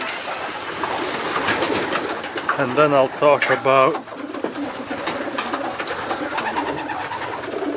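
Racing pigeons coo repeatedly in a loft through a steady bird chorus, with a few rounded, pulsing calls standing out near the middle and someone speaking briefly over them.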